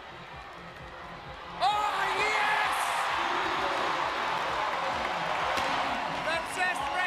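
A crowd at a 2023 Oceania CrossFit semifinal weightlifting snatch erupts into loud, sustained cheering and whooping after a quiet moment, while a commentator talks over it.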